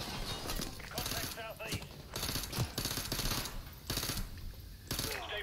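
Bursts of automatic gunfire in Call of Duty: Modern Warfare 2 Remastered, loud repeated volleys broken by short pauses, with voices calling out between them.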